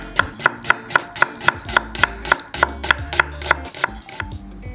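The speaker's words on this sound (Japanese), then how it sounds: "玉ねぎは薄くスライスで" A knife cuts thin slices of onion on a cutting board for Napolitan spaghetti, about fourteen crisp, evenly spaced chops in a fast, steady rhythm, close and clear.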